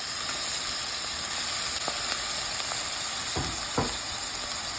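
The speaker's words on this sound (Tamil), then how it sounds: "தக்காளி நல்லா வேகணும். அந்த எண்ணெயிலே வேகணும்." Tomatoes cooking in hot oil in a pan for tomato biryani with mint and coriander, giving a constant close sizzle with a couple of soft knocks partway through.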